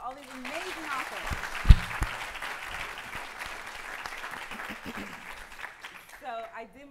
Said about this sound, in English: One more round of applause for all these amazing authors.